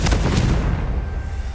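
A Confringo spell in Hogwarts Legacy bursts with a loud, close explosive boom, a sharp crack followed by a rumbling decay under a second of fading roar.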